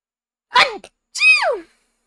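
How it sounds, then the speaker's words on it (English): A single person sneezes close up. There is a sharp first burst, a short pause, then a second drawn-out, falling vocal part as the sneeze trails off into silence. "Gesundheit."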